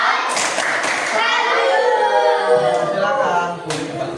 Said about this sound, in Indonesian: kalau tidak ada kita beri tepuk salut